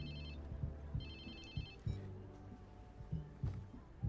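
A phone rings in the video game Watch Dogs 2: repeated electronic ring bursts, moderately loud, over a low background hum and intermittent thumps, with no speech.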